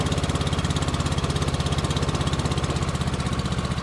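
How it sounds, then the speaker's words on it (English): CoolVac27 insulation removal vacuum engine running at low idle after being throttled back, a steady close pulsing chug with a rhythmic mechanical beat and no voices. "when you shut your machine down, throttle back on your machine,"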